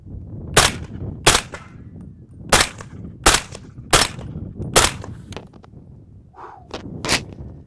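Suppressed rifle fired on an outdoor range: seven loud, sharp reports spaced about a second apart, each a crisp crack with little lingering boom, plus a brief faint tone between the last shots.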